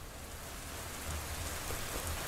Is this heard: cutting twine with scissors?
no